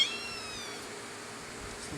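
A kitten gives a thin, high meow at the start, followed by a faint steady room hiss with no talking.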